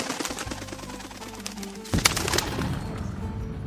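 Pigeons coo softly in Luneta Park, a low murmuring call amid outdoor background noise, with a sharp knock or flutter partway through.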